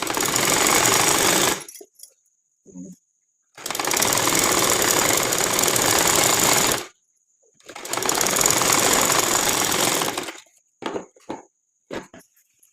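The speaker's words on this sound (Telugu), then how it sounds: "చూడండి స్టిచ్చింగ్ పెడుతున్నాను." A domestic sewing machine stitches an umbrella dress lining to the outer cloth in three loud, steady bursts of a few seconds each, with short pauses and small clicks between runs.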